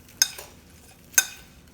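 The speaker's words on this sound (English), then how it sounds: "And then stirring all together." Powdered milk is stirred into a dry backpacking meal mix, with two quick scraping clinks of a spoon against the container about a second apart, fairly close, with near silence between them and no talk.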